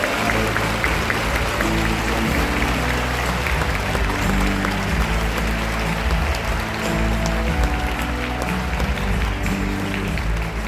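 Audience applause at the eve ceremony of the Bucheon International Fantastic Film Festival, a dense, steady clatter of many hands over low sustained music, loud and continuous throughout.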